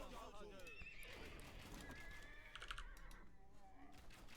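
A horse neighs in a real-time strategy video game during a ladder match, whinnies rising over busy game effects and rapid keyboard typing, with a player talking throughout.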